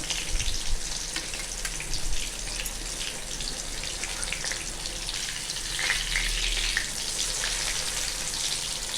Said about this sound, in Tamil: இந்த மாதிரி எண்ணெயில் போட்டு பொரித்து எடுத்துருங்க